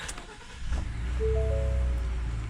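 A Ford F-150 SuperCrew XLT pickup truck engine cranks and catches, settling into a steady low idle rumble while a few brief electronic chime tones sound inside the cab.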